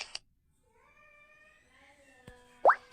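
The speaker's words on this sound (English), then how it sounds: "cat" A domestic cat gives one long, drawn-out meow in a quiet setting, framed by a couple of brief soft clicks before it and a short sharper sound just after.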